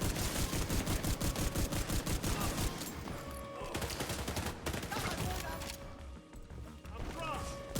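Rapid gunfire in The Division 2 shooter game, dense automatic bursts early that thin into scattered shots, with someone talking over the action.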